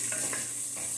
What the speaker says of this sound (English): stir those up some, and I want them to brown some